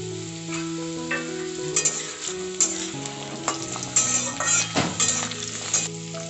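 Potato and eggplant pieces frying together in a pan, a steady close sizzle with scraping stirs and sharp utensil clicks against the pan running throughout.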